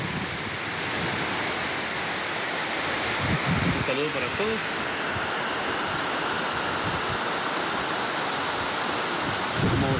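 Torrential rain and floodwater rushing through streets in Quetzaltenango, a dense, constant roar of water filling the whole clip, with someone briefly speaking over it.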